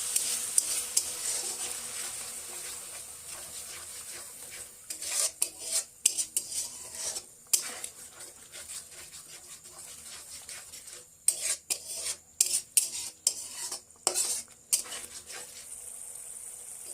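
Tomato and potato get stirred into masala in a pan, giving a quiet background sizzle broken by repeated scraping and clinking strokes of a spoon against the metal, louder bursts clustered in the second half.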